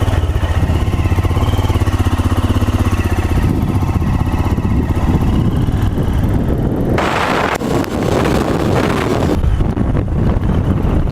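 A 2018 Royal Enfield Himalayan single-cylinder motorcycle pulls away in gear, its loud, close thumping engine climbing through the revs with a pause partway through, while wind buffets the microphone.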